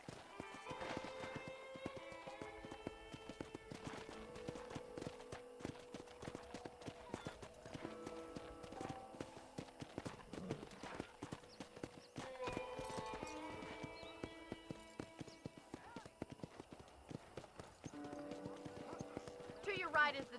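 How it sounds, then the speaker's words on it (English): Horse hooves clip-clopping steadily in the video game Red Dead Redemption, a continuous run of hoofbeats beneath a character's speech and game music. "I picked out a fine horse for you."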